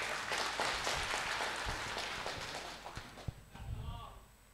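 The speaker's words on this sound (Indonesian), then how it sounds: "Tepuk tangan dulu." Clapping from the audience at a doctoral promotion hearing in a university law faculty, fairly soft and scattered, fading in the second half as a few sharp claps and murmurs remain.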